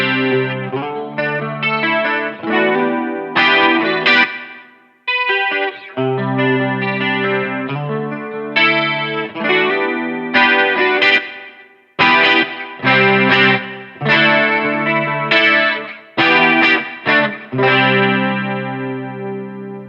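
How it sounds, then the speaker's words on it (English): Guitar through a vintage analog chorus pedal for an 80s-style tone, a loud run of shimmering strummed chords and short riffs in bursts with brief gaps, played alone without talking. "So that's my kind of favorite chorus sound"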